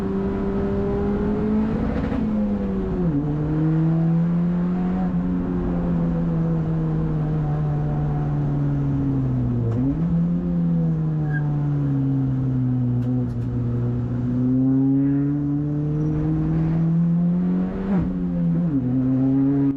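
An Acura NSX Type S is driven hard on a race track, its engine droning and rising in pitch, then dropping sharply at several gear shifts, close and loud throughout with no talking.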